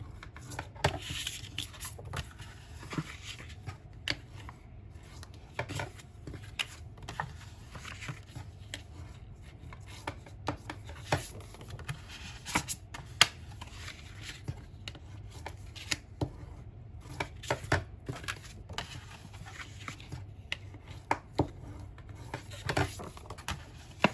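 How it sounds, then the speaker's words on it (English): Paper cut from a 6x6 pad is folded along score lines for a birthday mini album, giving soft, close rustles and light creasing taps that repeat irregularly at a quiet, steady level with no talking. "make sure to fold all of these on those score lines"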